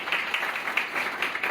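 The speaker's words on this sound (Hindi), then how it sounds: "सब मिलकर तालियां बजाना।" An audience at a guest session at a foundation claps together in a dense, continuous patter with a few sharper individual claps standing out, fairly close and without speech.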